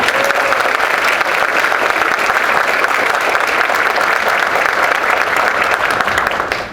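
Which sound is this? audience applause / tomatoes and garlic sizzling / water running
audience applause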